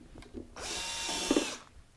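A power drill bores a hole through a wooden guitar bridge with a backer plate clamped inside, a loud, close whine lasting about a second between softer handling noises.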